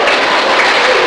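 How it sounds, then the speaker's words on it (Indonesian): Church congregation breaking into applause during a sermon, a short burst of dense clapping from a crowd in a hall. "Nggak usah tepuk tangan"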